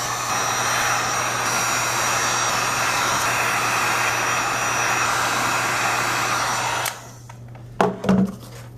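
A heat gun roars steadily while warming a plastic case so it can be bent into shape, then cuts off abruptly, followed by a few short handling clatters.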